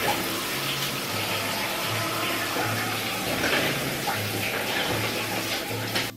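Water runs steadily from a shower or tap while hair is rinsed and detangled by hand, a loud continuous splashing rush with a low hum pulsing beneath it and no talking.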